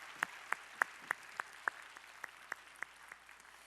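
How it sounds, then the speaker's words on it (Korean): A church congregation at a Sunday worship service gives applause of thanks, heard as a faint, steady run of about a dozen evenly spaced claps, with no talking. "우리 감사의 박수 함께 하시겠습니다."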